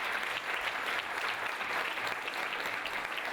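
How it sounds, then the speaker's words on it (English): An audience at a gala tribute event for centenary brands claps in sustained, dense applause from a large crowd. It stays loud and even for the whole stretch, with no voices on top. "let's give another round of applause for all the centenary brands this"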